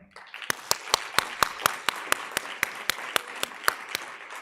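Audience at an awards ceremony applauding, a dense roll of clapping punctuated by regular sharp louder claps standing out near the microphone, continuous and fairly loud.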